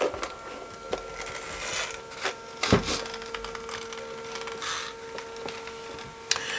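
A printer feeds roll paper while printing a Halloween table runner, with a steady mechanical hum, faint whirring and scattered clicks and ticks, one sharper clack in the middle, and no talking.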